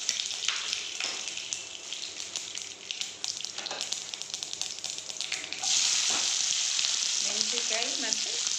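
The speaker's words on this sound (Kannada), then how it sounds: "ಒಂದು ಬಾಣಲಿಗೆ ಸ್ವಲ್ಪ ಎಣ್ಣೆ ಹಾಕ್ತಾಯಿದ್ದೀನಿ. ಸಾಸಿವೆ ಹಾಕ್ತಾಯಿದ್ದೀನಿ, ಕರಿಬೇವು ಹಾಕ್ತಾಯಿದ್ದೀನಿ" Mustard seeds and curry leaves sizzle in hot oil in a pan, a crackling, spitting fry with stirring that swells into a loud, steady hiss partway through.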